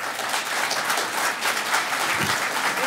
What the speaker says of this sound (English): We don't need any shout outs or clapping, okay?